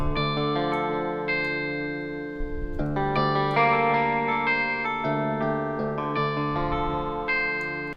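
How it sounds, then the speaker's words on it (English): Layered synthesizer notes play a shifting chord pattern, with a shimmering, doubled chorus texture and sustained tones blending into one another. "there's definitely some chorus on that one too"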